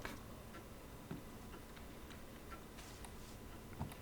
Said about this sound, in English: There's a clock.